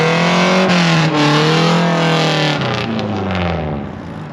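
Straight-piped Volvo 240 with no muffler, its engine revving loud and raspy in rising and falling sweeps, close by and unbroken throughout, with no talk over it.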